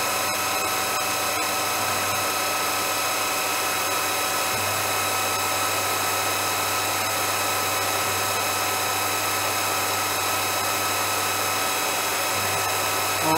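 Continuous loud machining drone with steady whining tones and a low rumble, a slight shift midway, like a mill cutting a pocket, no voices.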